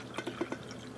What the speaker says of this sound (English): and then I pour my cup of coffee